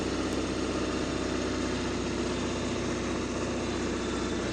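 A Ford 7.3 Powerstroke diesel truck pulls a 15,900 lb load up a steep driveway, its engine droning loud, close and steady under load throughout, with no talking.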